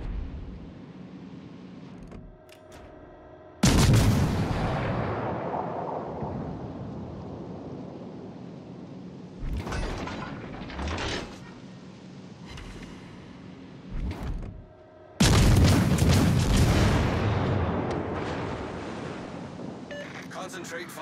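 Heavy naval guns aboard a warship fire on an enemy warship in a few loud, booming blasts, each rolling away into a long rumble, with quieter gaps between them.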